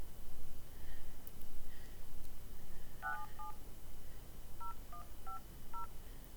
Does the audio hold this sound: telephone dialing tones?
yes